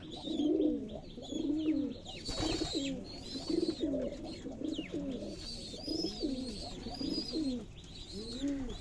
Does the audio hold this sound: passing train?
no